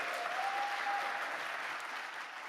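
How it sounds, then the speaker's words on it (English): Audience at a climate-focused international conference session applauds a minister from Tuvalu, a steady, moderately distant wash of clapping that fades slightly toward the end. "I would just ask you to join me in an applause for Minister Maina from the Tuvalu"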